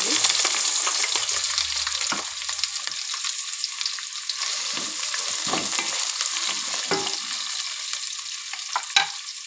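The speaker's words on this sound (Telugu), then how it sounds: "ఇప్పుడు పచ్చిమిర్చి ఉల్లిపాయలు అయితే వేసుకోవాలి" Green chilies and onions fry in hot oil seasoned with biryani masala, a steady loud sizzle broken by occasional scrapes and stirs of a spatula, with no talking.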